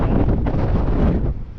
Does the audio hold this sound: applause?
no